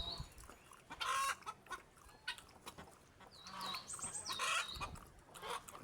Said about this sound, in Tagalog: Chinese chicken.